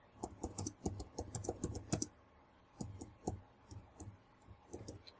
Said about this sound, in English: I want to go into notes and see if we can use the keyboard